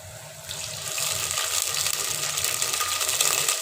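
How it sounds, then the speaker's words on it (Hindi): Water pouring into a pot of light-browned onions, a steady rushing hiss with a soft sizzle that swells after the first half second and holds fairly loud to the end, no voices. "अब मैं इसके अंदर थोड़ा सा पानी डाल दूँगी"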